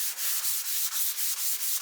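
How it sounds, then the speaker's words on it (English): Fine sandpaper rubs back and forth in a quick, even rhythm, a soft hissing scratch repeating about every quarter second up close. "knocking down any sanding burrs that may have been left by the previous grit"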